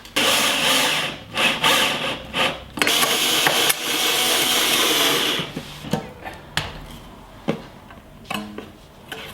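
Short screws driven into an oak knife rack, with a steady whirring drive run for a few seconds, then a series of brief bursts and clicks as the screws seat.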